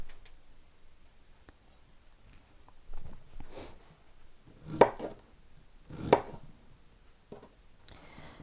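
Knife slicing salmon on a board: a handful of sparse, soft cutting taps with two sharper clicks standing out amid quiet background, no talk.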